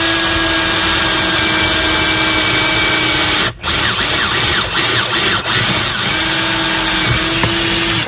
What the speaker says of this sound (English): Just make that a little bit easier to drill this hole.